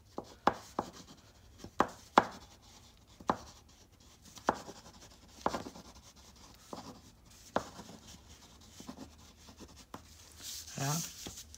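Thick water-soluble Woodies crayon pencils scratching and tapping across paper in scattered short strokes, dry and close, with quieter rubbing between marks.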